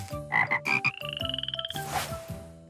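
A frog croaking sound effect: a few deep, bubbly croaks, then a fast rattling trill and a final croak, close and clear with no speech.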